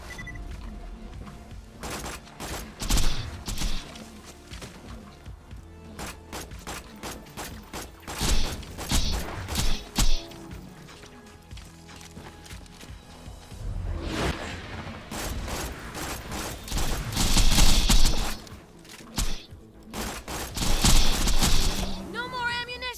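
Dahl Sand Hawk SMG fired in a Borderlands-style shooter, rapid bursts of gunfire in clusters with mechanical clicks and whooshes between them, while a player talks over the action.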